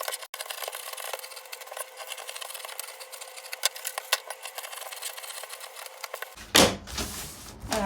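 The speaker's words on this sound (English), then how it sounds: "So let's cut out our pattern." Scissors snip steadily through a paper sewing pattern drafted for an Ankara gown, a close, continuous crisp rustle, then a sharper, louder crunch of paper near the end.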